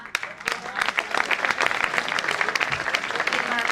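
Audience applause at a kavi sammelan poetry gathering, brisk, close clapping with distinct sharp claps over a dense crowd patter lasting the whole stretch.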